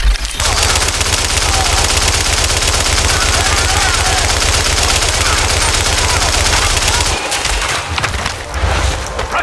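Sustained automatic gunfire in Tom Clancy's The Division, loud and close, a dense rapid stream of shots that barely lets up for about seven seconds before breaking into scattered bursts, with a voice briefly audible among them.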